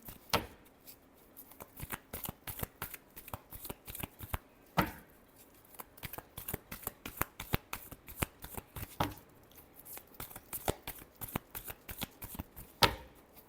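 A deck of tarot cards is shuffled over and over up close, with rapid fluttering riffles broken by sharper slaps as the cards are squared between bursts.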